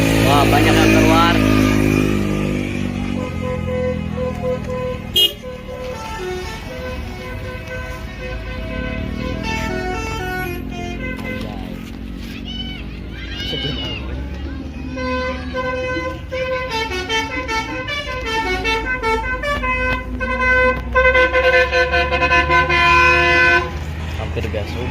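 Indonesian telolet bus horns blaring melodic multi-tone sequences, loud and close, over engine rumble, traffic noise and voices from a crowd at the roadside.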